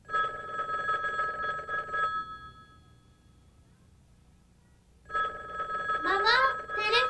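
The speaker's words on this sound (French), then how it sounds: "Maman, téléphone." A telephone bell rings indoors in two long trilling bursts separated by a few seconds of quiet, with a voice speaking over the second ring.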